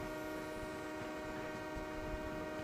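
A train rolls past continuously in a video game, a dense steady rumble of wheels with sustained tonal whistle-like hum, loud and unbroken throughout.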